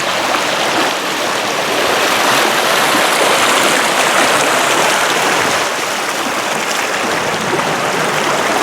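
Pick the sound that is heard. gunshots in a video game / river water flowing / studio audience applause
river water flowing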